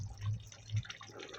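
Raw prawns go into a simmering potato curry, giving two soft plopping splashes of wet ingredients landing in the pot, fairly faint and close, with no talking.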